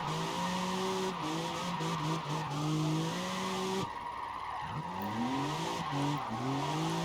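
Car tires sliding and squealing in a racing video game, with a steady engine drone and drawn-out, wavering skid tones that break off and resume several times, loud and close with no talk.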